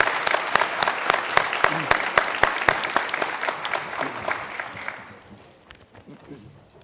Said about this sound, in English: Again, let's give a round of applause to these young people.